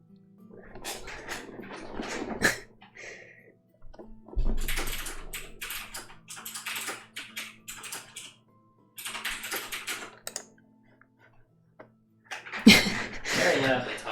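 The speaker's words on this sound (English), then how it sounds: "Very loudly typing." Loud clacking on a computer keyboard during a livestream, heard as several dense bursts of rapid keystrokes separated by short pauses, close to the microphone over a low steady hum.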